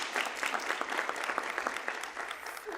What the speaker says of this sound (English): let's give Timothy a round of applause then